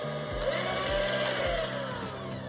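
An electric hand mixer runs briefly to fling cream cheese off its beaters during cheeseball preparation, giving a close, steady motor whir with a few faint rattling bumps.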